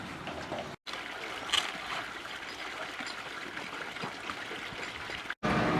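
Water drains steadily from a house rainwater tank, a continuous rushing trickle heard close and fairly even, broken briefly by two short cuts.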